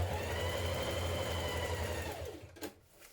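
A sewing machine stitches through trouser lining in a fast, steady mechanical whir close by, running continuously before stopping abruptly near the end, followed by a brief clack.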